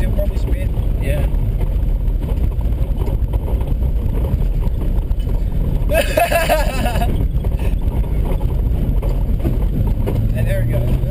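A VN Commodore car paddock bashing through a grassy field, its engine droning loud and constant under wind buffeting and close voices, with a brief surge of revving and tyre noise midway as it nearly spins.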